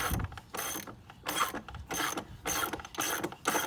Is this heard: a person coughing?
no